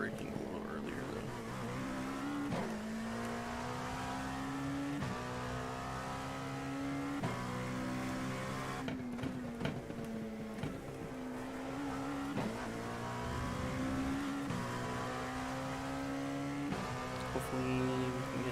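An LMP2 prototype race car in iRacing drones through its gears at Sebring, the engine note rising and dropping sharply under braking and acceleration, with someone talking over it throughout.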